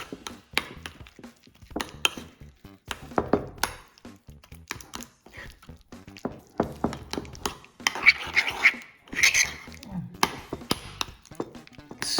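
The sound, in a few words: mixing room temperature butter in a bowl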